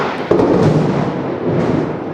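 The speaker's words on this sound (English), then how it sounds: "That was some serious lightning right there. And some thunder to follow." Loud, sustained rumble of thunder following a lightning strike, a sharp onset then a broad rolling roar that swells again before fading slightly, heard outdoors with no talk.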